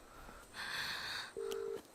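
A mobile phone being dialed, faint beeps and a steady tone following a soft hiss, with no voices.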